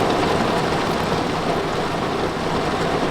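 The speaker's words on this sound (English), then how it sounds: "I literally crossed over the street and it started raining" Steady rain falling at Disney's Hollywood Studios theme park, a dense continuous hiss of drops close by with no break, loud and even throughout with no voices.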